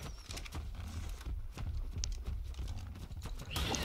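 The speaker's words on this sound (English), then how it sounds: "That's a horse." Horse hooves clip-clopping in the survival game ARK: Primitive Plus, a steady run of soft, rhythmic thuds close by with a faint background bed and no talk.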